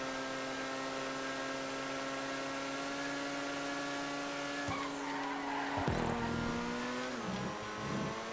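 An FMJ supercar racing in GTA 5, its engine holding a steady high drone before a shift, then tire squeal and skidding as it corners, close and loud with no talk.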